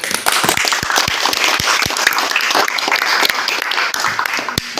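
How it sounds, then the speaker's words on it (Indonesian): A classroom group in an automotive engineering teaching session breaks into dense, continuous applause, many hands clapping at once, loud and steady for about five seconds with a few sharp individual claps standing out. "Oke, beri tepuk tangan."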